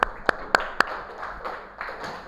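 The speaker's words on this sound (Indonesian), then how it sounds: "Sekali lagi tepuk tangan." Several sharp claps in a classroom, four crisp hand claps spaced evenly about a quarter second apart, loud and close, followed by softer scattered clapping that fades into room noise.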